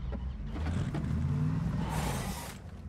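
Car engine in the video game PUBG, a low droning motor rumble that holds steady and then swells in a brief burst of hiss and mechanical noise near the end, fairly quiet overall.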